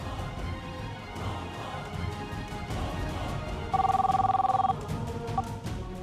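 Telephone bell ringing in a dubbed drama series scene, a quick electronic trill lasting about a second with a short repeat, set over a busy background of indistinct sound and low talk.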